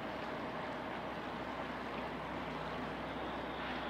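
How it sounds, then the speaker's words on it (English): Steady, faint rush of river water churned by passing barges and their wake, heard from a float home, a continuous even wash with no talking. "I don't know if you can hear the water."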